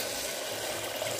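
Water poured into a pan of black-eyed pea (barbati) dal being cooked in oil, a steady close rushing splash that runs without a break and with no voices.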